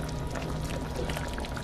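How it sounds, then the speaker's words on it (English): Water boiling in a pot for rice on a home stove, a continuous dense bubbling hiss that holds steady throughout. "The water is boiling."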